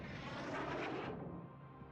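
A spotter plane's aircraft engine in a naval warship video game drones loudly and steadily, then drops off and thins out partway through, with no talk over it.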